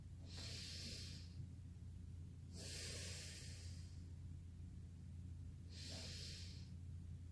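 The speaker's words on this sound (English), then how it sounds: "that's not proper breathing either" Three slow, deliberate breaths with improper technique, ribs flaring and low back arching, each a loud hissing exhale or inhale through the nose or mouth, evenly spaced over a steady low room hum, with no talking.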